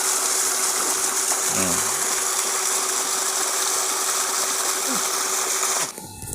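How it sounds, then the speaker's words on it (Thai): A modified 3-inch brushless solar-powered water pump with a new impeller for higher pressure runs with a steady, close mechanical hum and whir, then drops off abruptly just before the end. "ปั๊มสามนิ้วโมดิฟายใบพัดใหม่นะครับ เพื่อเพิ่มแรงดันนะครับ"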